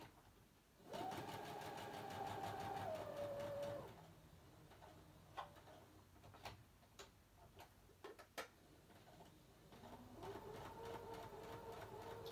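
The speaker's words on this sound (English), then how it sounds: "I'm not zigzagging, I'm just doing a straight stitch." A sewing machine runs a straight stitch in a steady, fast mechanical whir for about three seconds. Sharp ticks and clicks follow, then it starts stitching again near the end, close and clear with no talking.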